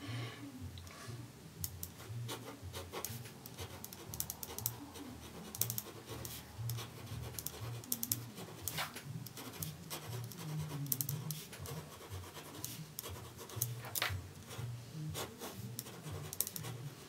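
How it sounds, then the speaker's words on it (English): A Biro ballpoint pen writing by hand on paper, close scratchy strokes in short uneven bursts with small clicks and taps between letters, quiet and continuous. "Handwriting with the humble BIRO"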